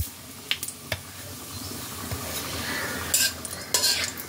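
Cumin seeds and bay leaves fry in hot mustard oil with a steady close sizzle, broken by a few sharp spatula scrapes and clinks of stirring in the pan, with no voices.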